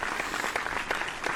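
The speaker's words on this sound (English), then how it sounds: "I gotta give the claps again" One pair of hands claps in quick repeated bursts, close and fairly loud, for a short stretch with no talk.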